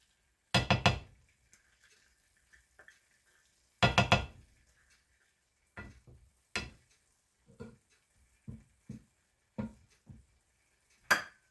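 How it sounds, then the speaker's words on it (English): Sour cream stirred into a pot of cooked, tender rice, with a spoon clinking and scraping against the pot in scattered knocks and bursts, some louder and some soft, close by. "So now I am going to stir in a half a cup of sour cream"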